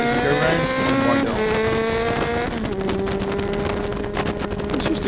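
Kawasaki GTR1400 motorcycle accelerating hard on the Oulton Park circuit, a loud close engine whine climbing through the revs, dropping at each gear change, then pulling up again with a rough, buzzing edge.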